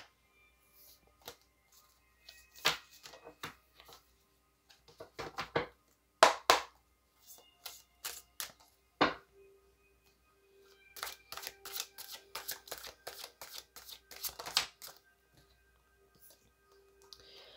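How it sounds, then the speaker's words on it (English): A tarot deck is shuffled and cards are drawn, giving soft, close riffling and flicking bursts with sharp card snaps, then a longer run of rapid shuffling near the end; quiet overall. "Let's go ahead and get a card here from this deck and see the theme for Taurus."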